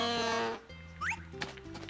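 A cow in the farming game Harvest Moon: A Wonderful Life gives a short, quiet synthesized moo, followed by a small chirp and soft game sounds.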